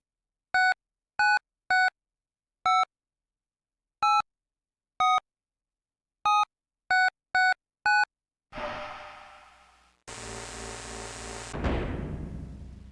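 Keypad entry on a heavy iron door in the Space Quest IV game: about eleven sharp electronic key beeps in an uneven rhythm, followed by a rising mechanical whoosh and a loud grinding rumble as the door responds.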